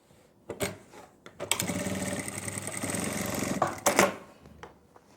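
A sewing machine stitches a seam on palazzo pants, sounding in short bursts and then one long, steady whirring run before stopping with a few quick stitches, close and distinct with no voices.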